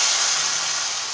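Liquid is poured into a pan of well-fried onions for an okra (lady finger) curry, giving a steady, loud, broad sizzling hiss that carries on evenly without a break.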